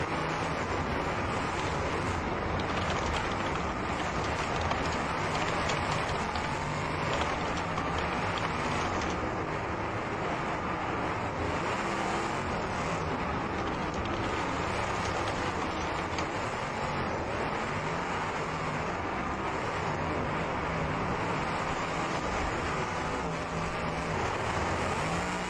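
Engines of several race cars roar steadily in a BeamNG heat race on a track where cars tangle up in the middle. The drone is dense and continuous, with no pauses.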